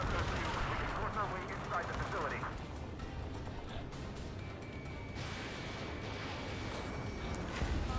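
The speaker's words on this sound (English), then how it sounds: "That's an AA gun, isn't it?" Anti-aircraft gun firing in a combat video game, a dense stream of booming gunfire and blasts mixed with explosions, loud and continuous across the whole stretch, with a thin steady tone emerging near the end.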